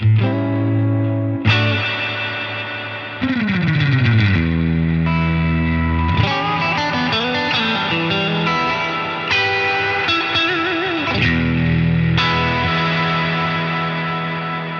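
Electric guitar notes and chords played through a NUX Atlantic pedal's spring reverb set to maximum, each strum ringing into a long, washy tail that overlaps the next, with no talking.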